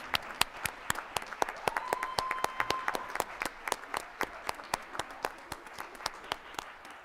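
Applause at a school board meeting for a girls' regional final championship team, sparse and fairly quiet, with distinct individual claps in a loose, irregular rhythm across the room and a faint tone briefly sustained midway.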